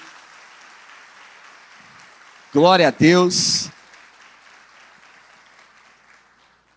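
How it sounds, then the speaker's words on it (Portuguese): Church congregation applauding in a service at Igreja Conviva, a faint, distant patter of clapping running beneath a loud, ringing exclamation from a voice on the microphone partway through. "Dê uma salva de palmas a Jesus pela vida dele também"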